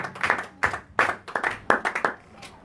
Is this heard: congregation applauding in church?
yes